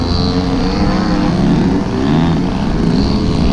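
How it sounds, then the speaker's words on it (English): Several RC airplanes hover nose-up on their propellers in Harrier-style maneuvers at a 3D flying event, producing a steady, continuous loud drone with a high whine layered over deep engine rumble and no pauses. "So what they're doing here is they're hovering these airplanes."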